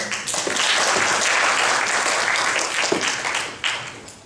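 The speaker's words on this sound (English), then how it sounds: "So please give a big applause to two of them." Audience applause fills a business presentation, a steady wash of many hands clapping near and loud for about four seconds before tapering, with a brief renewed burst near the end.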